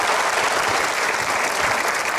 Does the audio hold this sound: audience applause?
yes